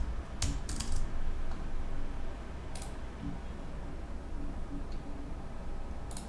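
Light clicking of keys on a computer keyboard as a company name is entered during an Office 365 setup, a few quick sparse taps against a quiet steady hum.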